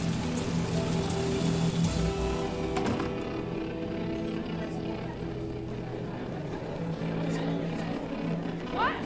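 Steady rainfall in the video game Heavy Rain, a constant wash of rain on surfaces lasting throughout at moderate loudness, with faint background voices from the game mixed in.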